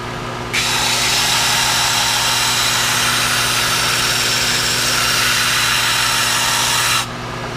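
A power sander runs steadily as a rocket fin for a 4-inch booster is sanded into an airfoil, with a loud continuous whirring hiss that starts abruptly and cuts off after about six seconds.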